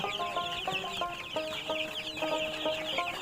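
Tiger breed chicken chicks on a farm keep up a dense, continuous chorus of high peeping and soft clucks, steady and fairly close with no pauses.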